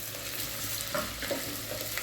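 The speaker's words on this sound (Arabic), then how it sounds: "البنات اول ما نبداو بعد ما سخن الزيت نحطوا البصل" Onions frying in hot oil at the start of a cumin stew with chicken liver, a steady soft sizzle throughout with a few faint stirring clicks, no talking.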